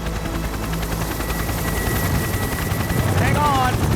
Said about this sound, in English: The two counter-rotating sets of rotors means the Kamov doesn't need a tail rotor to stop the helicopter body from spinning.